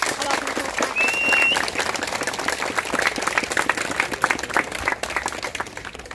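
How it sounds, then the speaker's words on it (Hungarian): Crowd applause at an outdoor festival ceremony in Ásotthalom, a dense, sustained patter of many hands clapping at moderate distance, with a brief whistle near the start and the clapping slowly easing toward the end. "Azt gondolom, hogy ez egy külön tapsot és egy külön köszönetet megér mindazoknak, akik szervezték."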